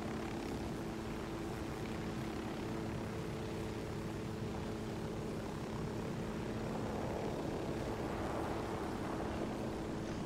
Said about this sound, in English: Flying with your computer AI in a helicopter.